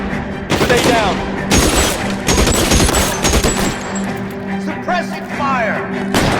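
Dense bursts of gunfire fill an L.A. Noire shootout, rapid overlapping shots cracking loud and close while a voice shouts over the firing.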